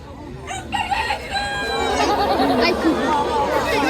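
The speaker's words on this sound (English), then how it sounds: "he's actually a red jungle fowl" A red jungle fowl rooster crows at a zoo's free-flight bird presentation, a long rising call repeating over background crowd chatter and a presenter's voice, fairly close and clear.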